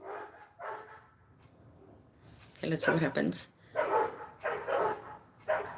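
A dog barks in a front yard, several short barks and yips spread through the clip, with a person talking nearby between and over them.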